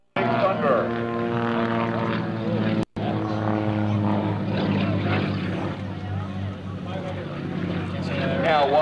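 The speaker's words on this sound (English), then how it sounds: "Let's listen to the 500 horsepower with the engine in rolling thunder" A 500-horsepower aerobatic propeller plane roars at an air show, its engine droning loudly with shifting pitch as it passes, while an announcer talks over the sound throughout.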